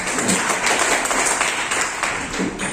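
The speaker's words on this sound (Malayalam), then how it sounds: "ഇപ്പൊ നിങ്ങൾക്ക് കൈയടിച്ചു." Audience clapping at a motivational talk by the Calicut team of Tuskers of Trillionaires Academy, a short burst of scattered hand claps that stays fairly even in level.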